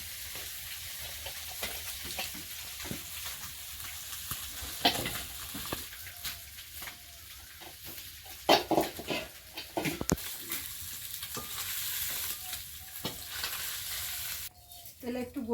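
Small chuno fish lightly frying in oil, a quiet, steady sizzle punctuated by irregular scraping and clinks of stirring, with no voices.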